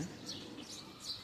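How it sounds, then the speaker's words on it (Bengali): Small birds chirp faintly in an outdoor neighbourhood on a cool, breezy afternoon, with three or four brief, high tweets spaced across a soft background. "পাখির আওয়াজ কিন্তু আছে পাখি ডাকছে"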